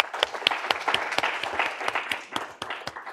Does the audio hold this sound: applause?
yes